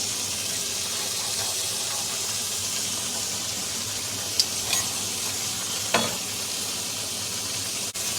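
Meat frying in a pan gives a loud, steady broadband sizzle throughout, with a couple of faint clicks and scrapes near the end.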